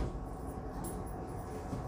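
Steady low rumble of a moving train in Taiwan heard from inside the carriage, a continuous even drone with faint rattling and no voices.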